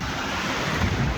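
Ocean surf and steady wind at a Puerto Vallarta beach, a continuous broadband wash with gusting wind buffeting the microphone and heavier waves building near the end, no talking.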